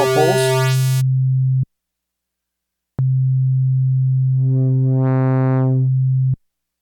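An ASM Leviasynth synthesizer plays its saw pulse waveform as sustained low tones. A bright, buzzy opening note cuts to silence, then a second long note returns and sweeps brighter midway before stopping cleanly.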